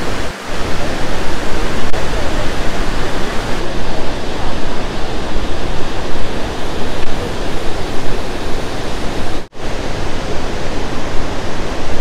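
A very wide waterfall of many cascades in a national park roars as a loud, dense, unbroken rush of falling water, steady throughout, with no voices.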